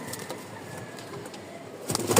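Giribaz flying pigeons at a loft in Bangladesh give soft, repeated cooing calls under a quiet background, with a louder burst of fluttering or rustling near the end.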